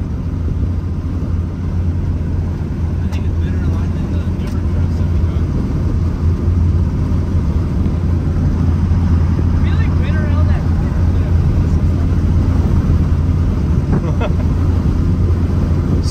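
A Ford truck with a Cummins diesel engine runs with a steady, loud, close low rumble that holds unbroken from start to finish.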